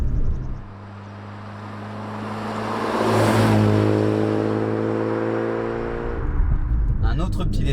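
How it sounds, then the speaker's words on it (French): BMW M3 E46 fitted with a short shifter, engine note rising and falling as it runs through gears, swelling to a louder pass midway; someone talks over the engine. "on a le plaisir de passer les rapports avec en prime un short shift"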